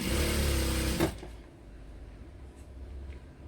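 An electric sewing machine stitches a hoodie, running in a steady, close, buzzing whir for about a second before stopping, leaving a quiet room with faint handling sounds.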